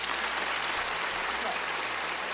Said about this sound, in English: a round of applause for our volunteers, please